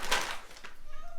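A cat named Hermie gives a short meow close by while someone speaks briefly.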